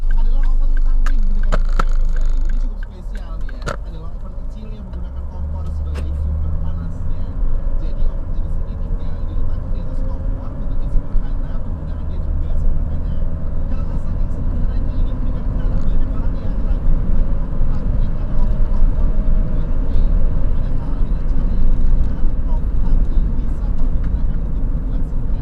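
Chevrolet Captiva diesel SUV accelerating, a steady low engine and road roar that holds loud and continuous throughout, with a brief dip early on, no talking over it.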